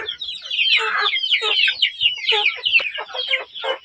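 A flock of chickens clucking and squawking continuously, close by and loud, with overlapping calls and no talking.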